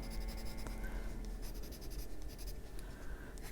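A coloring pencil scratches across paper while shading a pumpkin, close and quiet, with steady short strokes and faint rhythmic scraping throughout.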